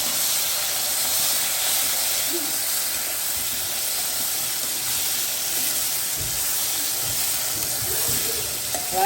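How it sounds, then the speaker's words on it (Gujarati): Tomatoes and chillies sautéing in hot oil after a tempering with asafoetida make a steady, even hiss that stays level throughout, close and fairly loud, with faint low rumbles beneath. "આપણે આને સાતળશું સરસ તેલમાં"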